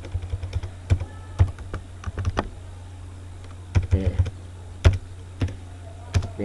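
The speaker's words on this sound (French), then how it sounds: "je vais tester le clavier" Keystrokes on a computer keyboard while a password is entered during a Roundcube mail setup on Debian 10, coming as irregular bursts of sharp, close clicks separated by short pauses.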